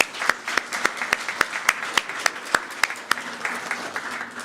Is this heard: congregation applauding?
yes